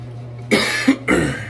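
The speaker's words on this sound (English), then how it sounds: "You have to forgive me for the coughing, the sneezing." Two close, harsh coughs from one person, each a short rough burst half a second apart, with a faint low hum underneath.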